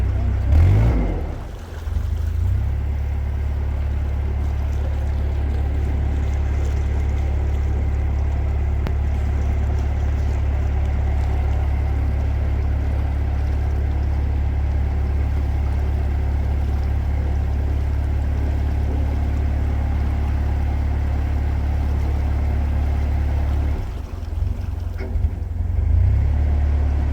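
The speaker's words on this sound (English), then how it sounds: "just trying to turn this boat around" A canal narrowboat's engine runs steadily while the boat is turned around at a winding point on the canal. It gives a constant low, droning chug for most of the clip, with brief louder bursts of revving near the start and end.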